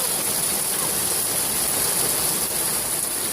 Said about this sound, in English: Gino, it's raining really hard right now